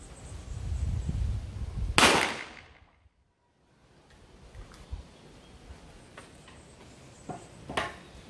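A single loud, sharp shot from an RT 82S .38 SPL revolver firing lead ammunition at a 30-meter range outdoors cracks and echoes briefly, followed by silence and faint distant ambient noises.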